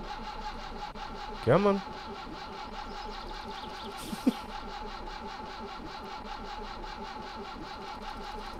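A car engine in My Summer Car runs at a steady mid-pitched idle throughout, close and even, with a short voice comment early on and a brief knock partway through.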